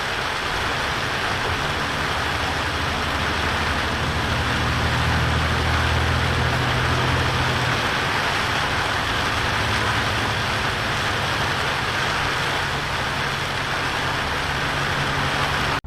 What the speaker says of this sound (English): And the rain is just pouring down.